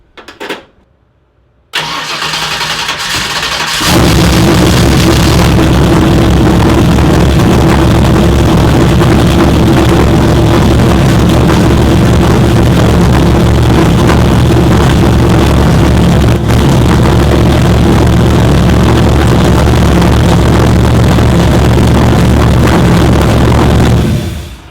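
A newly acquired car's engine cranks briefly and fires on its first start, then settles into a loud, steady idle that runs on evenly and close up.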